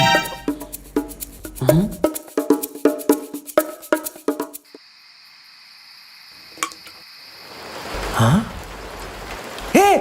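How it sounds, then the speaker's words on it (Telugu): Plucked melodic notes play first, then a steady hiss of rain builds and fills the second half, growing louder toward the end. "వర్షం పడుతుంది, లెగండి బ్రో"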